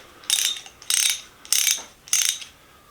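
A Walden refrigeration ratchet wrench is worked in four short, evenly spaced clicking runs, each a crisp burst of ratcheting close by with brief quiet gaps in between.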